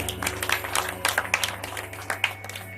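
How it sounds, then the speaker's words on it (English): Applause from an audience at an evening spiritual discourse gathering in a private residence in Queens, New York: scattered, uneven clapping with irregular sharp bursts over a low steady hum, moderately close. "Give them a big round of applause for that"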